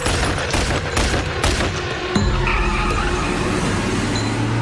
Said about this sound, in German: kam aus dem Fenster ein Arm mit einer Waffe und es fielen Schüsse